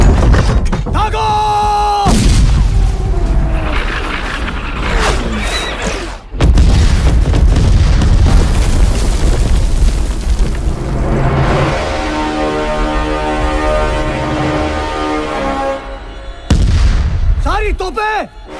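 Cannon artillery fire and heavy explosions from a battle scene in the Hindi film Hanuman: loud, sustained booming blasts that rumble on and off, with intense sections broken by brief drops.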